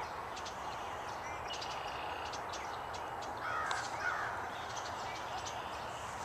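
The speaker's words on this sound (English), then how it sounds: "There's Mr. Crow." A crow caws a few times at a distance in the woods near a hunting deer stand, short harsh calls over steady outdoor background noise.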